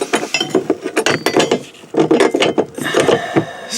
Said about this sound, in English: Take the bolts out.